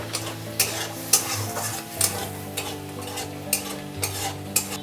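Masala of Kashmiri chilli powder and sugar cooks in oil with a splash of water, a spoon scraping through it in regular strokes about once a second over a low, steady tonal hum.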